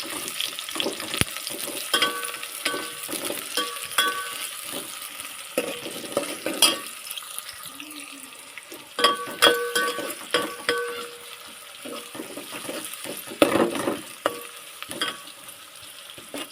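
Cluster beans (gavar) with onion are flipped and stirred in a hot pan, giving scraping spatula strokes over a soft, steady sizzle with irregular louder bursts.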